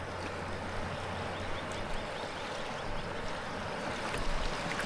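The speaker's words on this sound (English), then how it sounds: "There's a little bit of rough water." Rough Missouri River water rushes and splashes around a kayak in a dense, continuous wash, close and steady with small surges.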